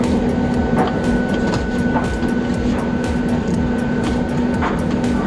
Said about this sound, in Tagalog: Habang yung isang washing machine may laman naglalaba at saka nagda-dryer ako dito.